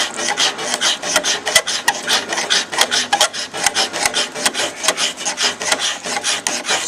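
A hand tool scrapes the whitish spongy wood layer off the back of a bow, giving close, loud, rhythmic rasping strokes in quick succession.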